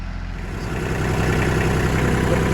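A tractor engine idles steadily on a farm, a low, even rumble with a regular throb that grows slightly louder and holds throughout, with no voices over it.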